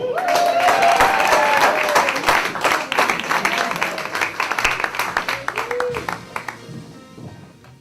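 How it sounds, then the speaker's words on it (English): A theater crowd applauds a stand-up comedian taking the stage at a small playhouse. Loud clapping with a whoop or shout on top gradually thins into scattered claps, and a voice briefly rises near the end. "How about a nice round of applause for Miss Carissa Gallo?"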